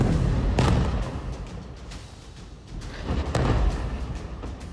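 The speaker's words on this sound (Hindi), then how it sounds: "सिर्फ 8 सेकंड और 2 धमाके।" Heavy explosions from an attack on a large building in a war-torn city at night, deep booming blasts with rumbling aftermath, two strong bursts separated by a few seconds.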